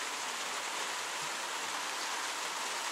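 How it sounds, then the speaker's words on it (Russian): Light rain falls steadily on a wild Pacific beach in Costa Rica, a soft continuous hiss of drops with no distinct rhythm, close and even throughout. "А у нас тут первый дождь."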